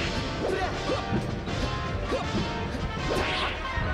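Super Smash Bros. Melee smash attacks from Marth and Captain Falcon in a tournament match land as repeated loud crashes and whacks with swooshes, over constant crowd and game background noise.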